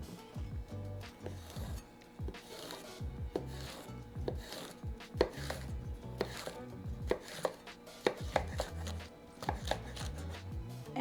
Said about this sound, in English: So first we're gonna slice our nopales.